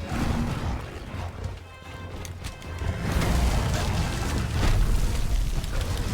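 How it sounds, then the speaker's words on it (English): Teostra, a fire-breathing elder dragon in Monster Hunter World, sets off an explosion on itself: a loud, dense rumbling blast with crackling debris that swells over several seconds, with no talking. "And he can do a little explosion on himself."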